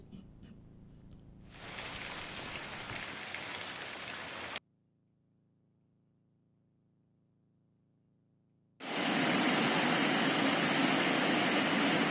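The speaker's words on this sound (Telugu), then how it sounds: "ఏజెన్సీలో ఎడతెరిపి లేకుండా కురుస్తున్న వర్షాలతో" Heavy, unrelenting monsoon rain pours down in a hilly agency area, a dense broadband hiss that cuts out to near silence midway before returning even louder and closer.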